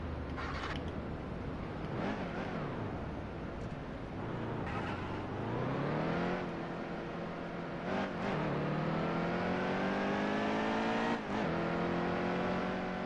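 A NASCAR race truck engine in the NASCAR Heat 2 video game revs and climbs through gears, with repeated rising engine sweeps and shifts, loud and continuous with no talking.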